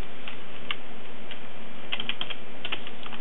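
Close computer keyboard typing, a sparse run of light key clicks in small clusters, entering a command in a Linux terminal on a Slackware system, with no talking.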